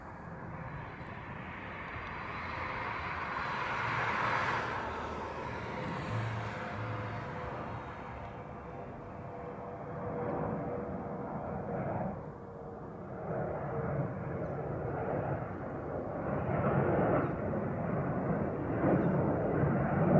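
A Hawaiian Airlines airliner departs for Hilo in Hawaii, its jet engines making a steady, broad roar that swells and holds for about twenty seconds at moderate distance, with no talking.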